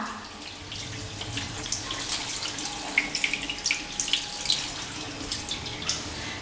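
Tap water running and overflowing into a basin, a continuous splashing gush with brighter spattering droplets in the middle, close and steady with no voices.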